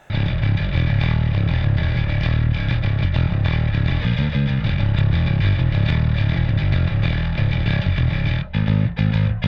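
A loud, heavily distorted melodic death metal drone sustains throughout, gritty and dense, with brief dips near the end.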